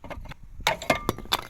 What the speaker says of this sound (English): So I drop a caliper on my nuts.